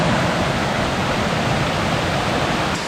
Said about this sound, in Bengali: দেখতে পাচ্ছেন কি অঝোর ধারায় ঝর্ণার পানি নেমে আসছে।